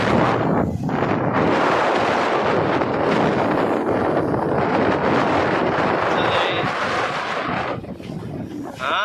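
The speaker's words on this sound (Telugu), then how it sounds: "గాలి మటుకు ఏం వస్తుందో అసలు ఎక్సలెంట్ వస్తుంది గాలి." Strong wind roars and buffets the microphone on a train crossing Pamban Bridge over the sea. The gusty rush is loud and continuous and eases slightly near the end.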